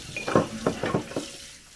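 Dishwashing at a kitchen sink, with a plate being handled and rinsed, giving several short clinks and splashy bursts close by over a faint background. No one speaks.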